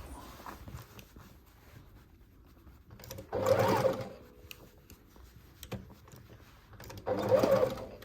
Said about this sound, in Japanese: ではまた縫い始めます。